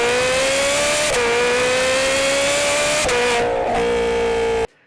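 A Ferrari 458 Spider with an Fi exhaust and headers revs hard and loud in a shrill, high-pitched wail, holding steady pitches with brief dips between pulls before cutting off abruptly.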